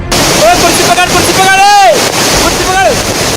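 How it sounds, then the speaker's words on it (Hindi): Floodwater from a river swollen by heavy monsoon rain pours like a waterfall at an iron ore plant in Dantewada, a loud, steady, broadband rushing roar with faint voice-like tones rising and falling over it. "जिनमें नदी का पानी झरने की तरह बहता नजर आया।"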